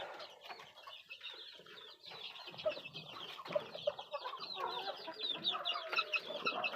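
Backyard hens, including a black laying hen, cluck busily and repeatedly, several birds chattering close by in uneven bursts with no pause.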